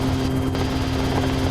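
Helicopter in flight heard close and loud from on board, a continuous rotor thump and engine drone with a strong steady hum and no talk over it.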